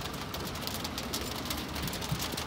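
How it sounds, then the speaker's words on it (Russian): Light rain beginning to fall outdoors beside a church, a steady, even hiss of drops, close and continuous with no voices. "Сейчас дождь начинается."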